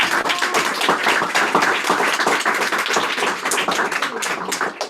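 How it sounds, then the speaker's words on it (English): Applause from an audience at the end of an interview session, a dense and steady patter of many hands clapping at once, sustained at an even level throughout. "So let's give a round of applause."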